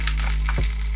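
Pepper and dhania (coriander) stalks sizzling in hot oil in a pan, a loud steady frying hiss with a low hum underneath, brief and close, no voices.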